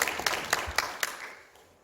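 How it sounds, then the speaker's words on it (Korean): An audience at a Korean forum marking the 73rd anniversary of the Yeosu-Suncheon uprising claps, a spread of hand claps with a few sharper beats that fade out over about two seconds. "다시 한번 뜨거운 박수"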